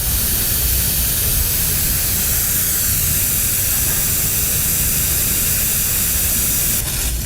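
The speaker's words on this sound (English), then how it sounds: "Press down on the fill nozzle and the propane will start to flow" Propane flowing under pressure from a fill nozzle into a refillable 1 lb Flame King cylinder, a steady, loud, broadband hiss that runs unbroken throughout with no voices.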